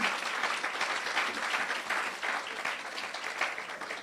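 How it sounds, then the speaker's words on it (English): An audience claps warmly at a ceremony renaming a polyclinic in St. George, the applause a dense, steady patter of many hands at moderate distance, lasting throughout with no voices over it. "once again, by your show of applause"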